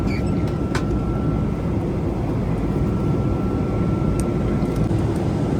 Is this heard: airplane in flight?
yes